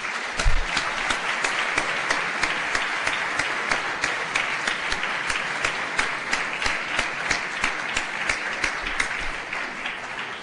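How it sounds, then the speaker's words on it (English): An audience at a lecture gives a sustained round of applause, with dense, even clapping that holds steady at full volume for about ten seconds. "I think they deserve a robust round of applause"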